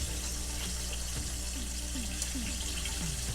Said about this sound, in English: let me put some water in there